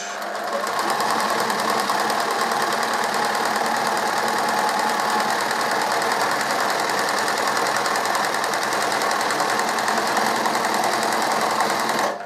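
A sewing machine runs continuously at steady speed, stitching a straight seam with lock stitch, loud and close with an even whirring drone and no voices.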